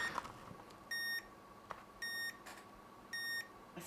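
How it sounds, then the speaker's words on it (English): A timer gives three evenly spaced electronic beeps, each a short steady tone, over a low background hum in a room. "It's a timer."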